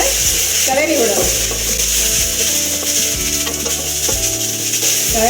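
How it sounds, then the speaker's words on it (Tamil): Drumstick leaves and soup ingredients sizzle in a pan as they are stirred, with a steady hiss of frying broken by repeated scraping and clinking strokes of the spoon, close and clear. "அது ஒரு நிமிஷம் நல்லா கிளறி விடணும்."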